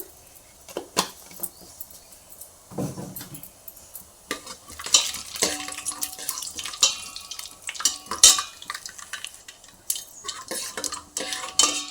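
Cumin and mustard seeds crackle and sizzle in hot oil in a pan, scattered sharp pops and spits building over time, close and fairly loud with a spoon clinking against the pan now and then.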